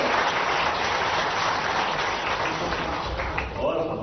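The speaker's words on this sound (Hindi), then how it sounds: "जोरदार ताली बजा करके अच्छे अभिनंदन करें।" Applause from an audience at a BJP function in Madhya Pradesh, a dense, steady wash of clapping that fills the whole stretch and stays loud throughout.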